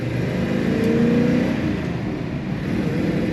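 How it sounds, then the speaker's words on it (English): Engine of a 1957 Ford Fairlane 500 Club Victoria with a three-on-the-tree manual gearbox, running smoothly with a steady, close mid-pitched hum and a slight rise and fall in revs, no talking. "Very easy to start, smooth running Ford."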